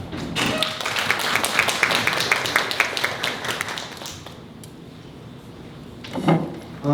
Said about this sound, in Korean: 큰 격려의 박수를 드리고 싶습니다